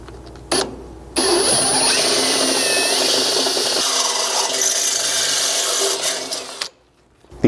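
A power drill drives a thread-cutting bolt into the cross member of a Chevy Colorado during a skid plate install, giving a loud, steady grinding whir for about five seconds that starts and stops abruptly.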